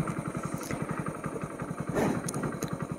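A 100cc motorcycle idles while stopped in traffic, its small engine putting out a steady, close, rapid putter with a brief rise in the middle.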